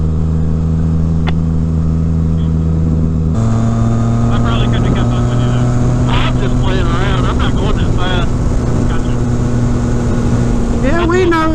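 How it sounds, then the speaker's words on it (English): 2019 Yamaha MT-09 motorcycle engine droning steadily, then shifting to a lower gear and pulling harder as it speeds up, loud and close with wind rush and brief voices over it. "I'm gonna speed up and set the high score right here"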